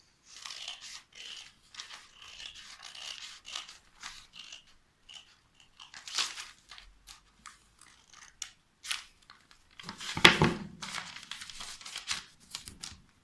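Scissors snip through recycled wool fabric, cutting out a slipper pattern in a run of short, close crunching cuts with brief pauses, one louder burst of snipping near the end.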